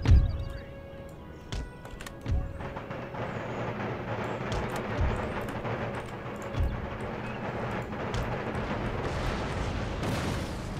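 Howitzers in Empire: Total War fire quicklime shot, a sharp opening blast followed by scattered distant booms and cannon reports over a steady battlefield din, with no talk.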